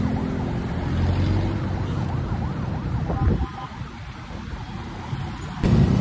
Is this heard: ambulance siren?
yes